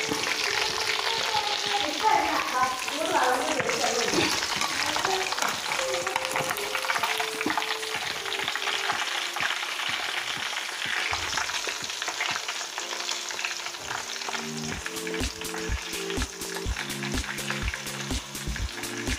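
Chicken pieces fry and sizzle steadily in a pan over medium heat for a homely chicken biryani, with stirring noises and, toward the end, a run of quick rhythmic scraping taps.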